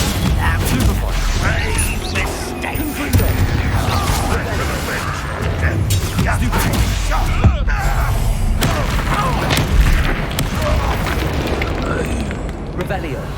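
Superfire spell blast cast in the video game Hogwarts Legacy, a loud, dense roar of rumbling bursts and crackling that fills the stretch continuously, with a voice speaking over it.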